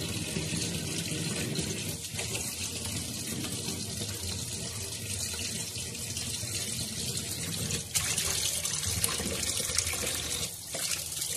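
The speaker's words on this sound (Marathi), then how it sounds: "असे मस्त असे धुत आहे आपण बांगडा मच्छी स्वच्छ अशी छान अशी साफ करत आहे।" Mackerel being rinsed clean under a running kitchen tap, a steady close splash and trickle of water over the fish with occasional handling knocks, no speech.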